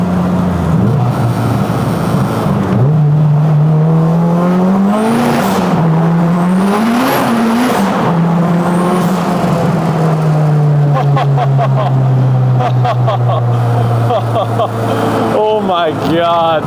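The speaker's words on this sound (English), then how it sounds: "The exhaust sounds great. The wastegate dump sounds good. Blow-off valve sounds good." A 600-horsepower Honda Civic street car roars loudly through a tunnel, its exhaust droning and rising and falling in pitch with gear changes, then turbo wastegate and blow-off valve chatter flutter near the end.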